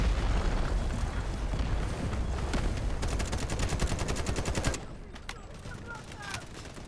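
Gunfire in the shooter video game Delta Force Hawk Ops, a dense loud burst of rapid shots and booms for several seconds, then stopping abruptly into a quieter stretch with a few faint distant pops.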